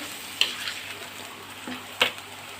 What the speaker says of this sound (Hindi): टमाटर प्योरी हमने बना के रख लिया था, तो ये भी डाल देते हैं इसमें। थोड़ा सा इसको मिक्स कर लें।